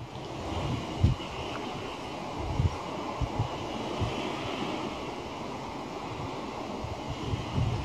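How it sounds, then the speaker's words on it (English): Wind buffets an outdoor camera microphone fitted with a wind shield, a continuous rushing noise broken by low thumping gusts at irregular intervals, fairly loud and steady across the whole stretch. "It's a bit of wind now."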